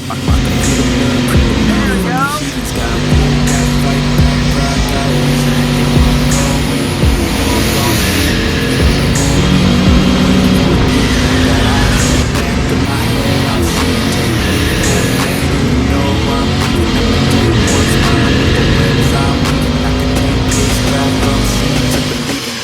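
A turbocharged V8 swapped into a Mini Cooper revs hard through a burnout, its engine howling and rising in pitch over screeching tires, loud and sustained, with voices shouting faintly in the background.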